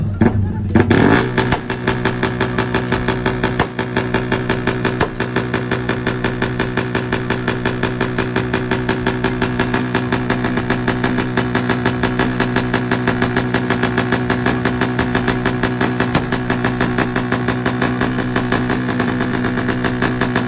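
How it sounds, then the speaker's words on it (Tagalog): A Yamaha Sniper 155 motorcycle with a Malaysian-style setup runs loud and steady in a loudest-pipe contest at a motor show, with a rough, pulsing exhaust drone, briefly revved at the start and then held at a constant high idle. "hindi ganon kalakas ang tunog ng ating pipe"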